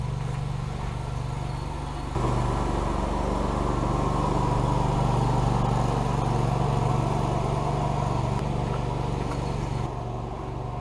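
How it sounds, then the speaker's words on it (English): A ride-on lawn mower's engine drones steadily nearby, growing louder as it passes and then easing off, with a constant low hum throughout. "Mowing guy's coming."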